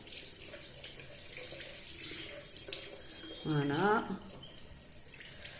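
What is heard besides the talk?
rinsing reusable cotton pad under running tap water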